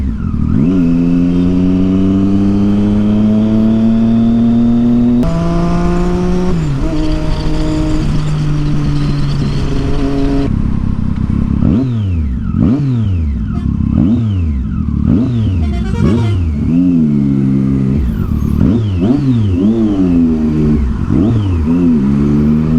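Triumph Street Triple motorcycle with a Yoshimura exhaust revving loudly and close, holding a steady roar, then blipping the throttle in repeated sharp rises and falls with crackling pops between revs.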